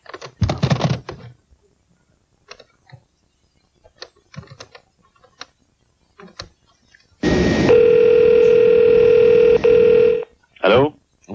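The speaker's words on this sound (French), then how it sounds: "Bon, appelons donc ce Guillaume." A telephone call is placed: several soft, scattered button presses and clicks are followed by a loud, steady tone on the line for a few seconds. A short burst of speech comes at the start and again at the end.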